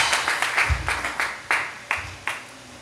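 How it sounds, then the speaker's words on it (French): A French-speaking church congregation claps in praise, loud rhythmic claps falling in a steady beat, some quick runs of claps and then slower single claps, close and prominent in a reverberant hall. "Applaudissez le Seigneur."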